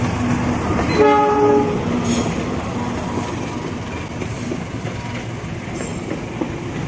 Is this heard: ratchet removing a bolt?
no